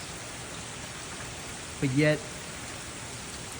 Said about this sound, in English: pretty cool part of the physics engine is the rain and the water and how water moves